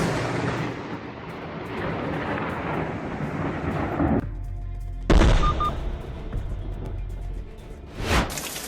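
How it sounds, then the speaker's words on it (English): A lightning bolt strikes nearby: loud, rolling thunder rumbles for several seconds, then cuts off. A sharp, booming crack follows, with another brief burst near the end. "a lightning bolt suddenly struck nearby"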